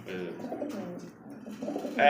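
A pair of big, pure-white fancy pigeons coos in low, rolling phrases. The calls sound close and steady, and a brief higher sound cuts in near the end.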